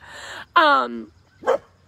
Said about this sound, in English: This dog never really barks, and now today she's barking a hell of a lot.